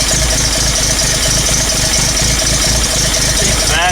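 A 1979 Toyota Land Cruiser with a synchronous two-barrel carburetor and a new starter idles at high idle, loud and close, a steady rumbling drone with even rhythmic pulsing throughout.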